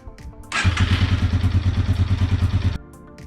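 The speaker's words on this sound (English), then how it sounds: "You could either take the bike for a quick spin around the block, or you can go ahead and idle it for a minute or two." Yamaha TW200 motorcycle engine idling steadily after a thump at startup, a close, loud single-cylinder putter with an even, rapid pulsing beat for a couple of seconds before cutting off.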